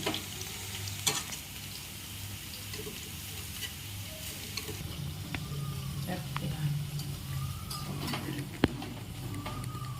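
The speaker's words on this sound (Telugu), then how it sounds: "పకోడీ అయితే బాగా మంచిగా ఫ్రై అయిపోయింది." Onion pakoda fry in hot oil with a steady low sizzle and scattered crackles and pops, close and fairly quiet, with a few sharp clicks and taps along the way.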